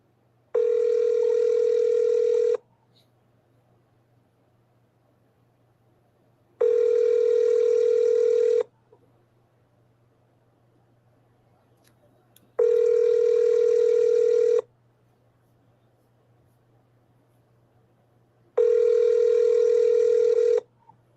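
A telephone call ringing out unanswered, four long steady ring tones about two seconds each separated by even pauses, clear and close over a faint low hum, with no voices.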